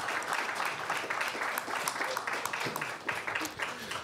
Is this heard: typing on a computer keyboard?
no